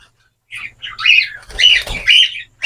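Zebra finches in a cage give several short, nasal calls in quick bursts, loud and close, with brief gaps between them and no voices.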